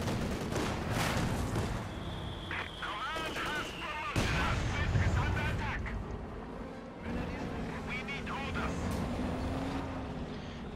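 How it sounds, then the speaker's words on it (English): American mortar fire in Company of Heroes 2 battle: repeated booming shots and blasts scattered among other gunfire and game effects, fairly loud, with commentators talking throughout. "Mortar firing away."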